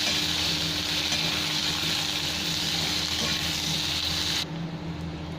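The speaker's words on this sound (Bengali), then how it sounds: "সবকটা একসাথে ভালো করে ভেজে নেব 2-3 মিনিট" Slit green chilies and two large onions fry together in a pan, giving a steady, moderately quiet sizzle that runs continuously with a low background hum and no talking.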